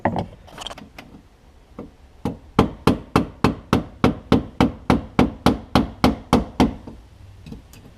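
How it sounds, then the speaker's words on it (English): A mallet strikes repeatedly on a BMW E46 fuel level sending unit ring, a few scattered knocks then a fast, even run of about eighteen sharp, solid blows close by. "some sort of mallet or hammer."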